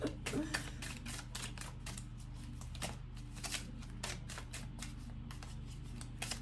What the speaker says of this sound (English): I usually simply shuffle until the cards that we need fall out